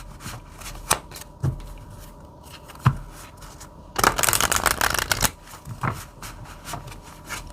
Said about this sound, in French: je vais mettre 2 cartes également, pareil, sur la personne de cœur et sur vous